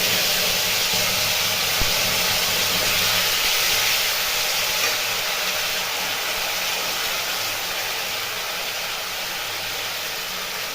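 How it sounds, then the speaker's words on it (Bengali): Ground spice paste dropped into hot oil with cumin and asafoetida for a vegetarian papad dalna, giving a steady, close, loud hissing sizzle that eases off slightly toward the end. "দেবো এখানে মশলা বাটাটা"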